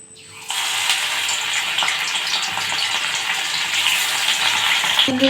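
Fish slid into hot oil and frying: a loud, dense sizzle bursts in after a quiet half-second and holds steady to the end, with no voices.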